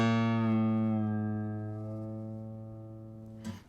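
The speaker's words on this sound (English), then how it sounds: "I detune it and then bring it up to pitch." A single plucked guitar string rings out, its pitch sliding as it is detuned and brought back up, fading before a brief scrape at the end.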